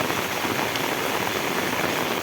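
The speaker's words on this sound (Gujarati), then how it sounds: "મિત્રો તમે જોઈ શકો છો અતિ ભારે વરસાદ પડી રહ્યો છે" Very heavy rain pours down in Vejalka village as a dense, unbroken hiss of countless drops striking surfaces, constant and loud throughout.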